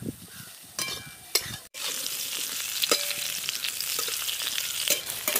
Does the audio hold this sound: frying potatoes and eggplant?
yes